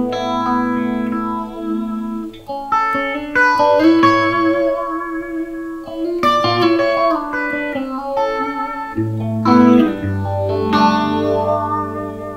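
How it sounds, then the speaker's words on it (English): Electric guitar played through an MXR Phase 90 phaser pedal, bluesy melodic notes and chords with a gently sweeping, swirling tone, played alone without talk. "This is what a phaser sounds like."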